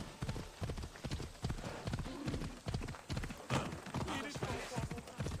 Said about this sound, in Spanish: Es el mejor caballo de toda la comarca